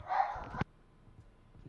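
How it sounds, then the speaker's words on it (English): Dogs barking indoors: one burst of bark-like yelps in the first half-second, then a sudden cutoff into quiet room noise. "My dogs keep barking."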